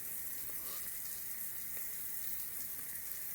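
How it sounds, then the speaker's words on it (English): Chicken taquitos sizzle inside a Ninja air fryer, giving a steady, close crackling hiss that holds evenly throughout with no talking over it. "you can hear this sizzling"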